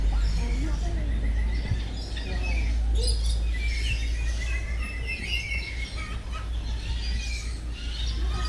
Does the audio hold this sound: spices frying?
no